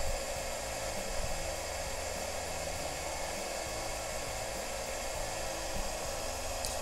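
Heat embossing tool held behind a stamped card to melt embossing powder, giving a steady, close blowing hiss like a small hair dryer that runs unbroken throughout with no talking.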